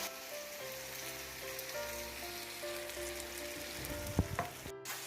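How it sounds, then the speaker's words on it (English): Chopped onion frying in a pan as the base for a lamb curry, giving a steady, soft sizzle with a few brief clinks and stirring sounds near the end, no talking. "While this onion is frying"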